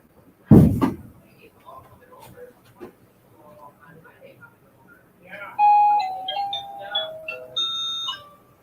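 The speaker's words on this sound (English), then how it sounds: "Oh, God, the doorbell." A doorbell chimes in a room, a series of clear ringing tones after a loud thump and some quiet movement, with people talking around it.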